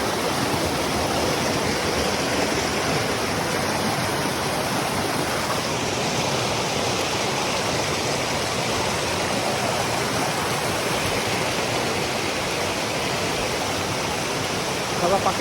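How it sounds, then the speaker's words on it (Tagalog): Steady, loud rush of stream water flowing over slippery rocks along a hiking trail, a continuous broadband wash with no breaks for the full duration. "Mapapakinggan yung agos ng tubig."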